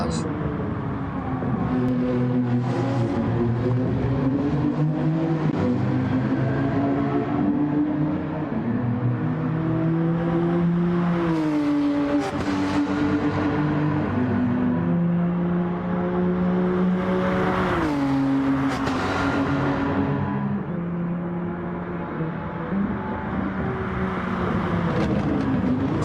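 Race cars lapping Suzuka circuit in a GR4 championship race, engines droning and revving continuously with rising and falling pitch as they shift gears and pass, while a commentator talks over the running engine noise.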